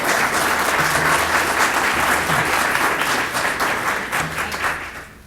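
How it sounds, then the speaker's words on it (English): A business conference audience gives a panel a loud, full round of applause that holds steady and then fades out at the end. "So let's give our panel a hand one more time."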